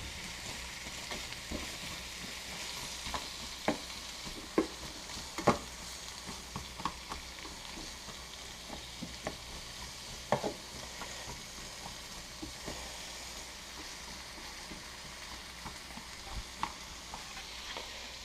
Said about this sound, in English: add that green pepper in there with those onions